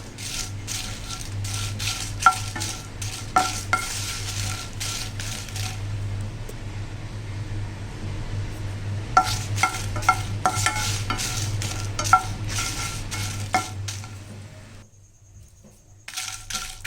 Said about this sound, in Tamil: வெறும் கடாயில் தான் நம்ம வறுக்கிறோம்